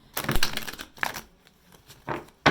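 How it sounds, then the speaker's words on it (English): A deck of tarot cards riffled and shuffled in several quick bursts, crisp papery flutters separated by brief pauses, close by with no talking. "I'm going to give the cards a nice, good shuffle"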